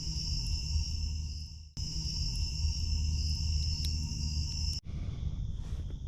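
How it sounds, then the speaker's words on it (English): Crickets chirp by a lake at dawn in a steady, dense high trill that continues without a break, fairly faint and unaccompanied by talk. "Just the crickets and the birds."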